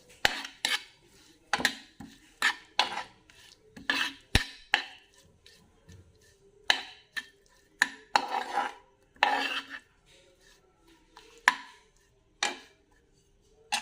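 Spoon stirring carrots with garlic and coriander-cumin powder in a metal dish, giving repeated clinks and scrapes in an irregular rhythm, close and fairly loud, with no talking.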